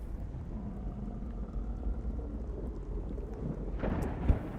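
Low rumbling thunder from an approaching storm in the video game The Cycle: Frontier, a continuous deep roll with a sharper crack near the end and no speech.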